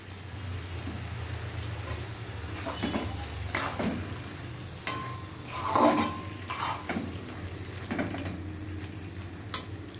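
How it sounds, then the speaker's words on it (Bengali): Cabbage curry is stirred in a pan as its water cooks off, with intermittent scraping and light clinks of a spoon against the metal over a faint background sizzle, and no talking. "জলটা শুকিয়ে যাওয়া পর্যন্ত আমাদের নাড়তে হবে।"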